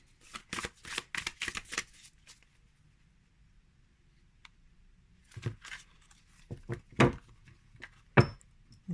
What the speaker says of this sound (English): Let's see if we can have one card fall out.